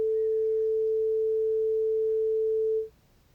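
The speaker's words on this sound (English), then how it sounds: "we can hear an example of what a sine wave sounds like here" A pure sine-wave tone holds at a single steady pitch for nearly three seconds, loud and clean, then cuts off abruptly into faint background hiss.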